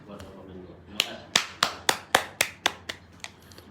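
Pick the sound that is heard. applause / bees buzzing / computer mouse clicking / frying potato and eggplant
applause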